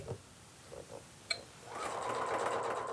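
A sewing machine topstitches a dress placket, starting after a few soft handling clicks and settling into a steady, close, rapid stitching hum that runs to the end.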